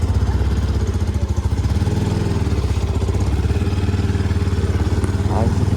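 A motorcycle engine runs loud and close with a fast, even pulsing throb, on a wet road after rain on the way to Diktel bazaar.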